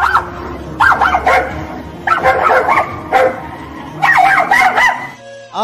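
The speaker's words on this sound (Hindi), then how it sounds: "जब कुत्तों का झुंड बोलता है तो कुछ इस तरीके से आवाज निकलती है।" A pack of dogs barks and yelps in four loud, overlapping bursts separated by short pauses, several animals calling at once close by.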